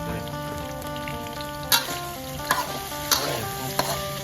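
Cooking oil sizzles in a pan during a stir-fry. A steady crackling hiss runs throughout, broken by a few sharp scrape-like spikes from stirring, with no talking.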